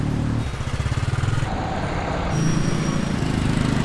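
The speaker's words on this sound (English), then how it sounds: "an overwhelming amount of motorcycles" Loud, continuous roar of Bangkok street traffic with engines revving and droning close by, a dense wash of motorcycle engine noise throughout.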